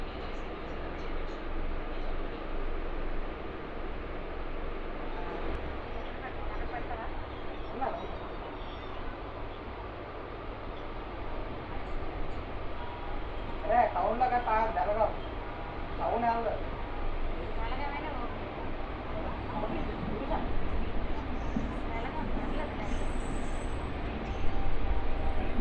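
MEMU express festival special train pulling out of Pendurthi railway station on the Visakhapatnam–Parvatipuram route, a steady broadband rumble of wheels and carriages that swells slightly as it goes, with faint voices in the background.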